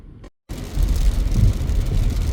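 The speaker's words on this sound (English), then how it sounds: "And it's raining." Steady rain patters on a car, a dense even hiss that fills the cabin after a brief silent gap at the start, with no one talking.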